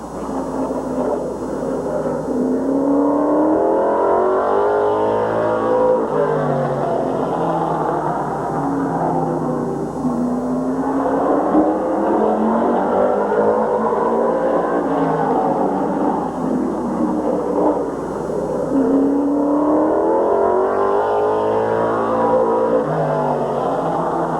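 Race cars lap Midvale Speedway in 1987, among them the number 63 Alfa Romeo promoted unlimited driven by Brian Volk. A loud, continuous engine roar rises and falls in pitch as the cars sweep past, with no voices.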